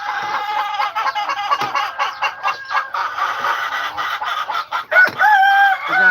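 Native chickens, including black Australorp hens, on a farm in Aklan, clucking and calling loudly and close by in a continuous, busy chorus, with crowing-like calls rising near the end.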